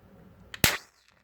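A firework shot tube fired by an electronic firing system gives a single sharp, loud bang with a brief trailing hiss, followed by quiet.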